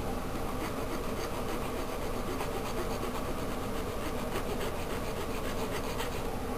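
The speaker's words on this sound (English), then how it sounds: "So this time I'm going to try using a file." Someone works a hand file across a doll body piece, giving a continuous faint raspy scraping with soft repeated strokes, with no talking.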